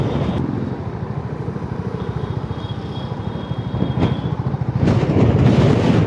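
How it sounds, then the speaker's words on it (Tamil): Strong wind roars steadily over a moving Honda H'ness CB350 motorcycle in city traffic in Bangalore, a loud broadband rush with the engine beneath, swelling louder near the end. "அப்பா சரியான விண்டு ட்ராக் மக்களே. வண்டி தள்ளுது."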